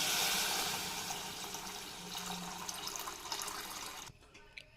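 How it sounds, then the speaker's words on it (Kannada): Water poured into a cooking pot of rice being prepared for egg rice, a steady splashing gush that runs for about four seconds before stopping abruptly, followed by near quiet. "ಇವಾಗ ನೀರು ಹಾಕೊಳತ್ತೀನಿ ನೋಡ್ರಿ."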